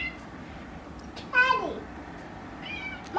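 A cat meows outdoors in the cold after the first snow, one clear drawn-out cry followed by a fainter second call, against a quiet background.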